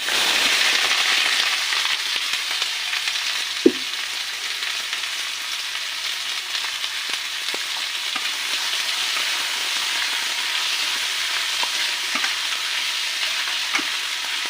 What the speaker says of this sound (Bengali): পেঁয়াজটা একটু লালচে হয়ে আসা অবধি আমরা ভাজবো